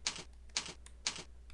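Keys tapped on a computer keyboard while entering data in an Excel spreadsheet: three short bursts of crisp clicks at even half-second intervals, close and quiet, over a low steady hum with no talking.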